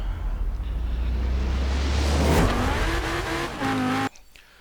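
A race car engine in the Forza Horizon 4 video game roars and revs hard at the start of a race, loud and sustained with tire noise, then cuts off abruptly near the end.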